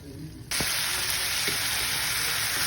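A chicken dish sizzles in a frying pan and is stirred, with a steady, close frying hiss that jumps louder partway through and carries a few soft spoon scrapes.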